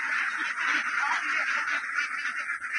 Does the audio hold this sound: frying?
no